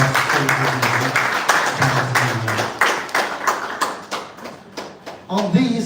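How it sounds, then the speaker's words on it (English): Seated audience at a lecture gives a round of applause, scattered claps mixing with voices talking over them, tapering into more separate individual claps. "can you do justice by just giving a round of applause?"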